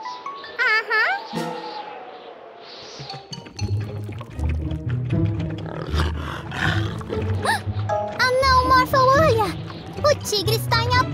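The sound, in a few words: cartoon tiger roaring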